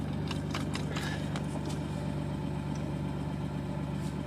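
A 1996 Dodge Dakota engine idles steadily just after a cold start, with a continuous even hum, light rhythmic ticking and a few faint clicks and knocks early on.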